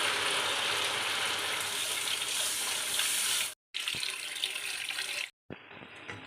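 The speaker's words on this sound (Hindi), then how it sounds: "ये देखें, मैंने इसमें 1 लीटर पानी डाल दिया।" One litre of water is poured into a cooking pot for white matar pulao, a steady gushing pour that runs for several seconds and then cuts off twice, close and fairly loud, with no talking.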